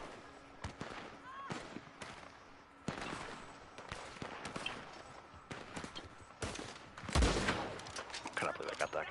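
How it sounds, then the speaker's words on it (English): Gunfire in the Western video game Red Dead Online, a string of sharp shots and bursts scattered across the stretch, with a heavier blast near the end, mixed with game ambience and some talk. "I'm gonna shoot you."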